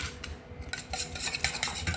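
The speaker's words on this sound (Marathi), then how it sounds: "आता दह्याला असं चांगलं फेटून घेऊ आपण" Quick scraping, clinking strokes of a whisk or spoon whisking curd with water in a bowl, repeated rhythmically and close by, with no voices.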